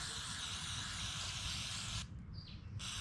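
A close, steady hiss of an aerosol spray can on a leaking 1988 Camaro IROC-Z engine runs for about two seconds, stops briefly, then a second short burst begins.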